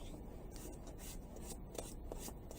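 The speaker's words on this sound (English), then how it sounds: "I'm just doing a little sanding" Steady rasping strokes of sandpaper rubbing back and forth across wood, close and continuous, with no voices.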